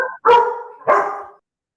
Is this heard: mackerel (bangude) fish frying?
no